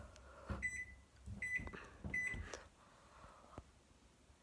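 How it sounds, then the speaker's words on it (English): A microwave oven being set to heat pizza rolls chirps out three short, clear keypad beeps, with thuds and clunks from handling in between and a quieter hum afterward, close by and with nobody talking. "You put it in the microwave."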